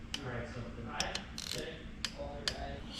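A torque wrench tightens bed plate bolts on a Dodge SRT-4 engine block during assembly, giving a few faint, sharp ratcheting clicks spaced irregularly against quiet shop background.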